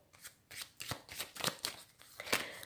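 An oracle card deck is being cut and riffled in soft, quick bursts of papery flicks, about half a dozen close, quiet snaps spread evenly with no talking.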